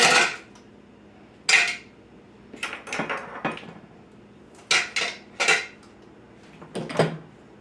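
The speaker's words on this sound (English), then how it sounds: "Give that a little stir up, a little whiskey whisk" A whisk or spoon knocks and scrapes against a baking dish, several sharp clinks and short stirring bursts separated by brief pauses, close and clear.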